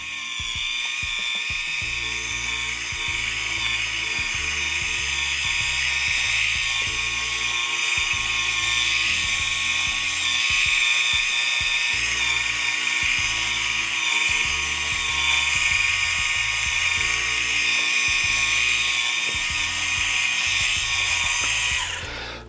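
A small electric facial cleansing brush with a brush head spins fast against the skin of a face, giving a steady high-pitched whirring drone that runs continuously and loudly from start to finish without pause.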